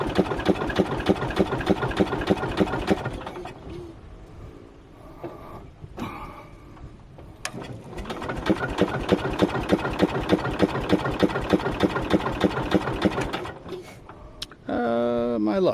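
A Bolens 1250 tractor engine chugging in a fast, steady mechanical rhythm, briefly faltering and dropping off midway before catching again and running on, with a short whirring burst at the very end.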